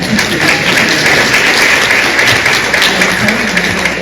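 Sustained applause from an awards-ceremony audience at a high school journalism awards event fills the whole stretch, dense and steady at an even loudness with no break.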